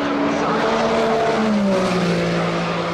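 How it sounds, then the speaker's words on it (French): A Toyota GR010 hypercar engine drones loud and close, with shifting tonal pitch sweeping downward as it passes, a sustained racing-car roar. "C'est un bruit qui est très discret, la Toyota GR010"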